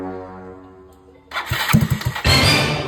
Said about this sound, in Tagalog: Kailangan maangas yung tunog ng motor natin.